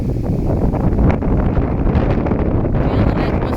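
Gusty wind on a windy day at a lakeside park roars and buffets the microphone in a loud, continuous rumble.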